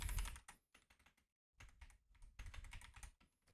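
Rapid clattering keystrokes on a computer keyboard, close and fairly loud, in bursts with a short pause midway and no talking.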